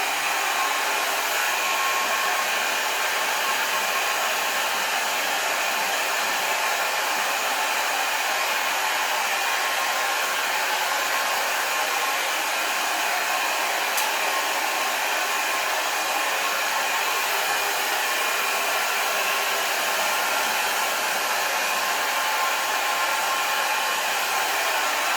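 An Ion LUXE ceramic compact hair dryer on its first heat setting blows continuously at close range, a steady, loud, even rush of air with motor whine, unbroken throughout with no talking.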